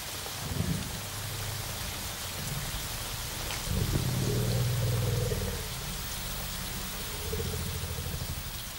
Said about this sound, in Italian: È cominciata la stagione delle piogge.